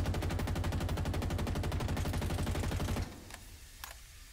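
Rapid automatic gunfire from a weapon in Halo Infinite, a loud steady burst of evenly spaced shots lasting about three seconds, then a sudden stop followed by a couple of faint, brief mechanical clicks.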